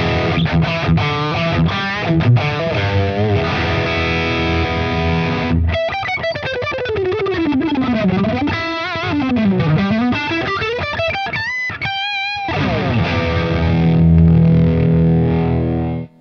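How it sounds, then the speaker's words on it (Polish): Heavily distorted electric guitar through the Neural DSP Archetype Abbasi amp plugin, playing a fast legato lick with rising and falling sweeping runs and chopped staccato notes, loud, steady and alone. "W tej lekcji słuchacie Archetype Abbasi."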